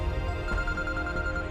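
A telephone rings in a home with a steady, held electronic tone, moderately loud and continuous through the short stretch, with no talk over it.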